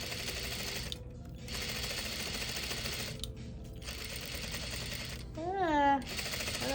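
A sewing machine stitches a fabric shirt collar in bursts of fast, even mechanical chatter, close up, broken by two brief pauses, with a rising-and-falling whine near the end.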